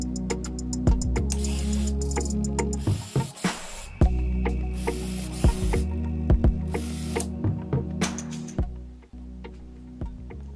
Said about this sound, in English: the motion triggers the Arduino to activate the linear actuator and turn on the bulb